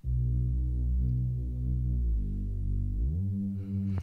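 Lo-fi slap house bass preset from Splice: a loud, sustained synth bass note, deep and harmonically rich, that slides up in pitch partway through and settles on a higher note, alone without other instruments.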